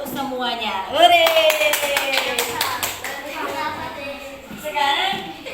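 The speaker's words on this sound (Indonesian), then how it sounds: "Tepuk tangan untuk semuanya." Children in a classroom clap together in a quick burst of sharp, rhythmic claps while a teacher's voice and children's voices carry on around them.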